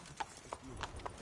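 Roach, a horse in The Witcher 3, clip-clops along with four distinct hoof beats in an even rhythm, over quiet background sound.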